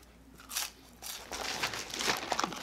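Close, crisp crunching bites into Carl's Jr crisp cut fries, several crunchy bursts building over a couple of seconds with chewing crackle between them.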